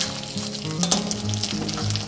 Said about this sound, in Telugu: ఇది పచ్చి వాసన పోయేలాగా మంచిగా వేయించుకోవాలి.